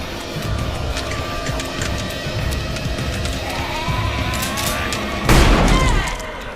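Gunfire from the zombie comedy film Shaun of the Dead amid a noisy, crowded movie scene, with scattered shots, voices and a sudden loud boom near the end.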